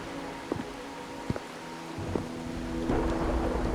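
Rain falling and thunder rumbling in the video game Wuthering Waves, a steady wash of rain with a few brief knocks and a low rumble swelling louder toward the end.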